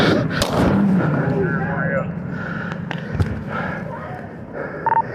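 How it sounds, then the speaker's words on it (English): Gunshots fired by a police officer during a close-range confrontation, a loud burst early on followed by sharper cracks, with shouting voices and bodycam-style background noise. "See, 35 shots fired."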